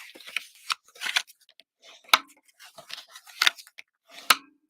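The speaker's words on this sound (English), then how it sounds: "we're just going to score and burnish on all our score lines." Paper being scored and burnished along fold lines for a tea or coffee holder base, heard as a run of short, close scraping and crinkling strokes with brief pauses between them, no voices.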